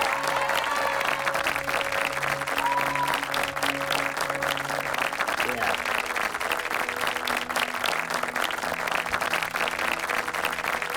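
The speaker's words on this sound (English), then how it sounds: "give yourself a round of applause" A large commencement crowd applauds and cheers continuously for the graduating class, loud, dense clapping lasting the whole stretch, with a single brief voice heard near the start.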